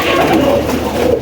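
A blue-eyed pigeon coos close by in a soft, low, rolling call lasting about a second, fairly loud and heard alone.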